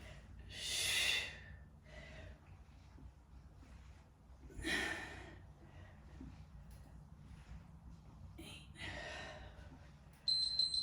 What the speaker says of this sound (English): Exhale that breath.